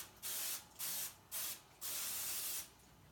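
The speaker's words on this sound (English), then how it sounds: "We just spray the pan" Pam cooking spray misted into a greased baking pan in four bursts, three short ones and then a longer steady hiss, close and crisp.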